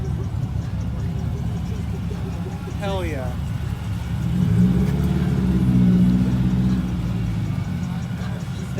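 A supercharged 6.2 engine in a ProCharged ZTA Trans Am Camaro converted into a Firebird rumbles at idle at a car show, then rises in a brief rev before settling back, with a person exclaiming nearby.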